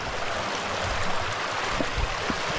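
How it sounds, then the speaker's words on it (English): A creek flows beside a forest trail, a steady, close rush of water that fills the short stretch, with a few soft bumps and knocks underneath and no voices. "listening to that creek."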